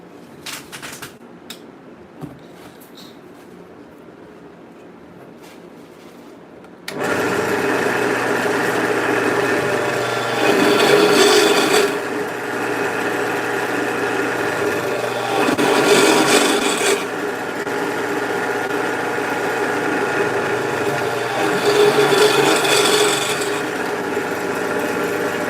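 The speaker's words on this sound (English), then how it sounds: "Don't mind my drill press." After a quiet opening with a few small clicks, a drill press starts up loud and close, drilling into a fuzz pedal enclosure with a steady grinding whine that swells in three bursts as the bit bites.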